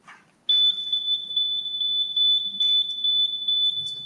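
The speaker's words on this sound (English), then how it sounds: "what was beeping? Okay, thank you, because I was getting a little concerned. That was a timer." A timer at a city council meeting gives off a loud, continuous high-pitched electronic tone for several seconds after a brief quiet start, with faint room murmur underneath.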